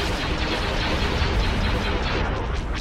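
Dense, continuous weapons fire and explosions from a space battle in Star Wars: Empire at War, a loud rumbling barrage with no pauses for the whole stretch.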